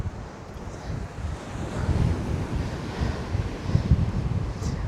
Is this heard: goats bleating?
no